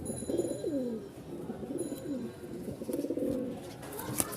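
A pair of pigeons coo nearby in repeated low, throaty rolling calls, fairly quiet against a steady background hum, with a faint click near the end and no talking.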